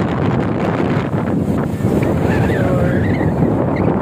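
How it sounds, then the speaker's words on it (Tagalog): Strong wind buffets the microphone at Dolomite Beach in Manila, a steady loud roar of gusts with surf-like wash filling the whole stretch and no break. "Sobrang lakas talaga guys ng hangin dito guys."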